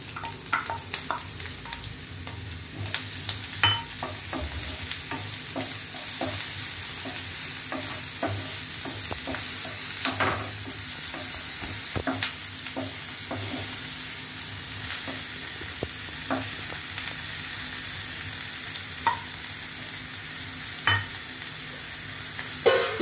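Chopped tomatoes frying in a pan for chicken keema pulao, giving a continuous close sizzle broken by frequent sharp clicks and scrapes of stirring, steady throughout with no talking.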